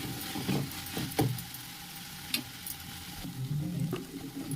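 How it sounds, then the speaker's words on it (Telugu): Ginger garlic paste fries in a pan while being stirred, a soft continuous sizzle broken by several scraping spoon strokes and light clicks, close but fairly quiet. "ఒక 1/2 స్పూను అల్లం వెల్లుల్లి పేస్ట్ వేసుకొని బాగా కలిపి కొంచెం పచ్చివాసన పోయే వరకు వేసుకోవాలి"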